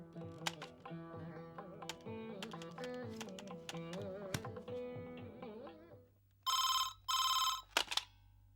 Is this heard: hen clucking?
no